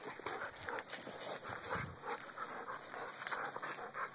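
Two dogs, Buster and Toby, play together at close range, with scuffling, panting and soft growly noises coming in quick, irregular bursts and no talking.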